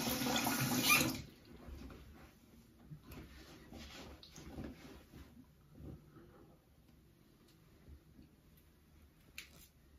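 A faucet runs loudly for about a second during a shave with a Gillette safety razor, then the scene drops to quiet close handling sounds and faint taps, with no talk.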